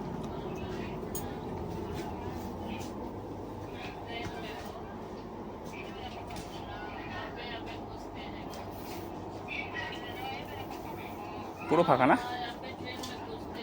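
Inside a moving passenger train from Kolkata to Varanasi: a constant low rumble and rattle of the carriage runs beneath close conversation, with a brief louder clatter near the end.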